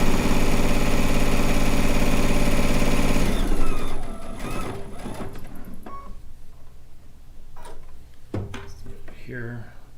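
Sewing machine stitching down a rag quilt, a loud steady mechanical drone with rhythmic needle chatter running for several seconds before stopping, followed by quieter handling clicks and rustles.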